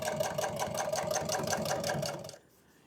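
Sewing machine stitches welt onto a boat cushion in upholstery work, a fast steady mechanical whirring buzz close by for about two seconds before stopping abruptly.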